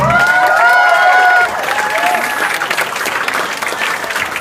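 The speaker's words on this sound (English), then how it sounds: "Let's hear it one more time, our best man, Mr. Vivek and Vivek." Wedding guests applauding the best man's speech, a loud burst of clapping from a crowd that eases slightly after the first second and carries on steadily, with some cheering mixed in.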